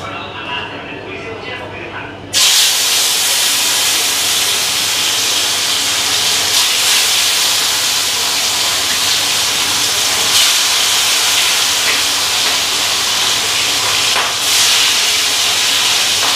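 A piece of fish frying in a pan gives off a loud, steady hiss and sizzle that starts abruptly and carries on evenly to the end, with faint talk under it at the start.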